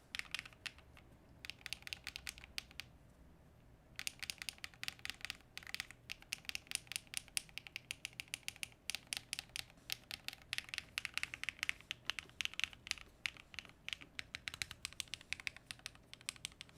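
Rapid, steady typing on a ceramic mechanical keyboard with a carbon fiber plate gives crisp, poppy clacks close to the mic, with a brief pause early on before the keystrokes resume.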